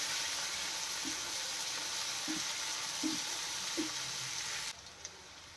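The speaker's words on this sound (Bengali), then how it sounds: "আদা রসুনটা ভালোভাবে ভাজা ভাজা হয়ে গিয়েছে" Ginger garlic paste fries in a pan, a soft steady sizzle with a few light stirring taps, then quieter near the end.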